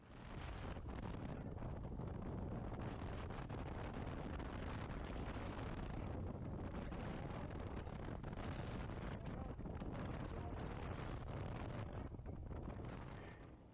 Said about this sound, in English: I had to turn the audio way down just because the headwind we're going into is quite strong